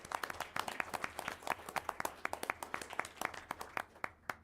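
At a school board meeting, a small audience claps for a student, with sparse, distinct hand claps in a loose, uneven rhythm that stays fairly quiet and close throughout.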